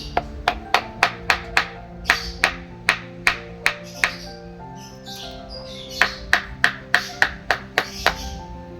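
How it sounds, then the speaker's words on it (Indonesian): A nail is driven into an orchid pot with an improvised tool in place of a hammer, giving a steady series of sharp close knocks roughly twice per second, with a brief pause midway and no talk. "jadi pakai ini aja bisa. Dipukul."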